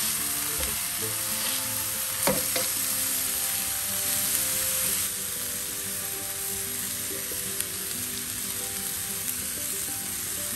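Oxtail pieces sizzle steadily as they brown in a pan, a dense continuous frying hiss with occasional clinks and shuffles as they are turned.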